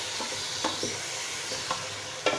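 Bone-in beef for nihari sizzles quietly in a pot while being stirred, with a faint continuous fry under a few soft scraping strokes and clinks.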